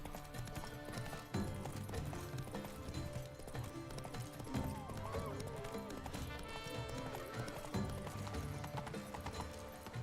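Galloping horse hooves in Witcher 3 beat in a fast, steady rhythm beneath a dense layer of game music and ambience, moderately faint and continuous for the whole stretch.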